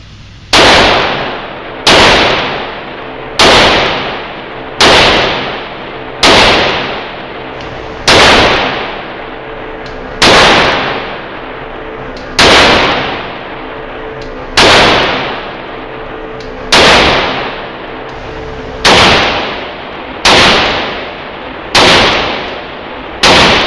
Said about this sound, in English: What do you say we get a little bit of shooting?